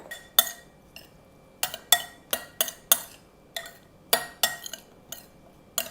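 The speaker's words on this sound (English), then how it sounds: "Put a little bit of lime juice on top, some salt and pepper, and let's give that a stir" A spoon stirs diced pickled jalapenos with lime juice, salt and pepper in a bowl, giving a string of crisp, irregular clinks and taps. It is close and clear, with quiet gaps between strikes.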